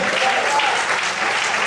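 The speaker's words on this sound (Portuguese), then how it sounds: "Você pode aplaudir o Senhor." A brief burst of dense applause from a church congregation at a night service, loud and unbroken throughout.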